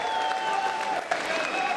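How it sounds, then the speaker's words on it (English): Crowd applause for both boxers at a live professional boxing event after a six-round fight, a steady wash of clapping that fills the whole stretch without a break, with some tonal hum in the arena underneath. "can we please have a massive round of applause for both of our"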